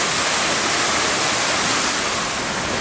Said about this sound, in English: here we get the last shot of the waterfall